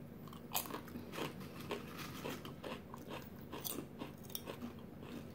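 Crispy potato chips, crunchy but not as hard as tortilla chips, are bitten and chewed up close, giving a steady run of sharp, crackling crunches with no talking.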